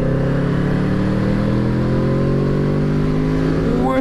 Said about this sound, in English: Let's give it a little twist on the old throttle only.